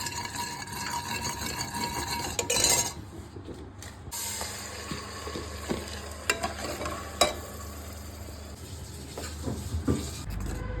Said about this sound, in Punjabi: ਇਹ ਰਾਈ ਦਾ ਇਹਨੂੰ ਤੜਕਾ ਲਾਉਂਦੇ ਆ ਜੀ